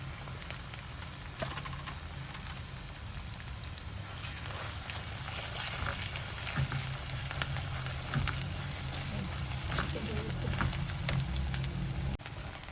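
Ground gongura (sorrel leaf) paste frying in oil for thokku, a dense continuous sizzle with bubbling pops and occasional stirring scrapes, close and fairly loud throughout with no speech.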